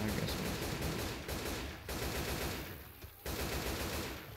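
Rapid gunfire from the zombie shooter game Left 4 Dead 2 rattles steadily at moderate level, a dense continuous burst with brief gaps, mixed with game ambience.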